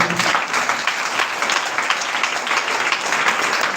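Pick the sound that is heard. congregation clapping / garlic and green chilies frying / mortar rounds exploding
congregation clapping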